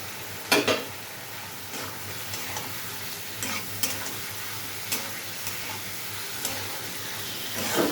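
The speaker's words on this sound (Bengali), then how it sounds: "এর মধ্যে ফুলকপি ভাজাগুলো দিয়ে দিলাম" Fried cauliflower pieces go into a sizzling pan for a cauliflower curry, giving a steady close frying hiss broken by a few sharp clinks and taps of stirring.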